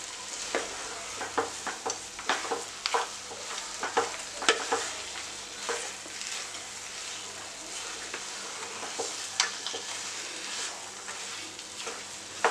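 A spoon stirs pineapple kesari with fried pineapple, cashews and raisins in a hot pan. The scraping strokes are steady and repeated over a continuous, close sizzle, and no one speaks.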